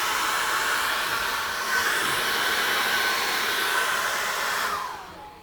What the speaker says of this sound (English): I'm gonna dry that with a hairdryer and check everything is working.